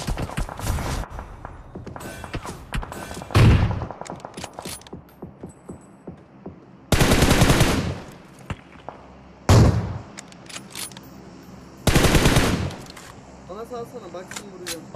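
Gunfire bursts in the PUBG Mobile video game: several loud volleys of shots separated by quieter stretches with clicking weapon handling, while players talk over it.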